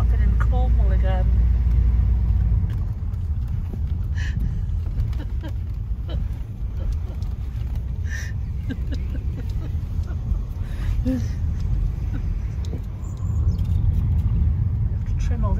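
A car rumbles steadily along a narrow single-track country road in Wales, its engine and road noise loud and close from inside the cabin, with wind buffeting the microphone and voices faintly present.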